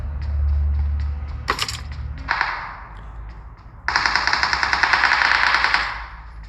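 Gunfire in the mobile battle royale game PUBG Mobile, with rapid automatic bursts and scattered shots, a sharp crack, then a sustained loud stream of firing in the second half over a low rumbling background.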